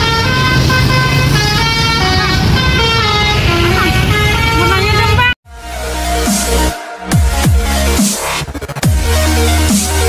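A basuri-style bus horn plays a sholawat melody in loud, sustained musical tones. It cuts off abruptly, then shorter horn blasts and engine noise follow. Voices are present.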